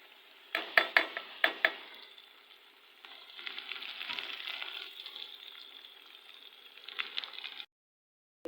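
Onions fry in a pan, a steady close sizzle preceded by several sharp metallic taps of a utensil on the pan, with more stirring clinks as the frying continues before the sound cuts off.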